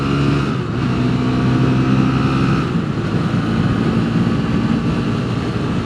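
Liquid-cooled Rieju MRT 125SM motorcycle accelerating on the road, a loud continuous engine drone with wind rush, steady throughout with no talking.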